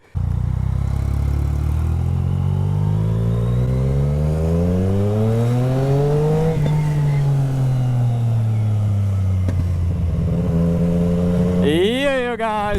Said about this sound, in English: Today I'm on a big boy bike, an MT-09